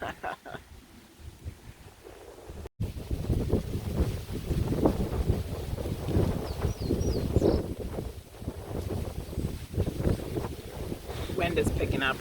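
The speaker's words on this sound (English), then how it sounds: "Wind is picking up, which is not good for vlogging." Strong outdoor wind buffeting the microphone at a historic battlefield, a loud, rough, continuous low roar that rises after a brief dropout and persists throughout.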